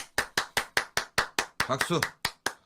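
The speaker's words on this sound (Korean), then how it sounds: "박수" Sharp, evenly spaced claps, about a dozen in quick rhythm, loud and close, with a brief voiced cheer-like burst partway through.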